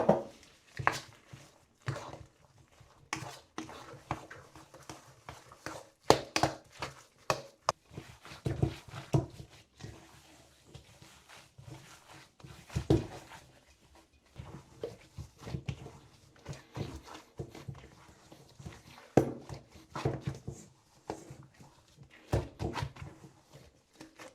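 Keto bread dough being kneaded by hand after hot water is added, a series of irregular soft slaps, squelches and knocks against a bowl, coming in uneven bursts with short quiet gaps between.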